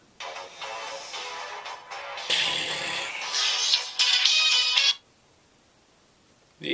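A phone ringtone plays in bursts, loud and close, then stops abruptly, leaving near silence before a new sound starts at the end.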